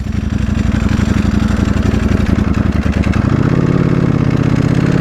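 A 2020 Ducati Panigale V4R with an Akrapovic race exhaust chugs roughly at low revs, a loud, close, uneven throbbing that shifts pitch slightly partway through.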